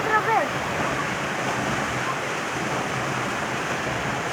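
Waterfall in the Bolívar province near Guaranda, a steady broadband rush of falling water heard close and continuous throughout, with a brief faint chirp near the start.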